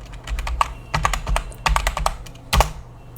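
Computer keyboard typing, a burst of separate keystrokes in quick uneven runs with short pauses between groups, close and clear with no voices.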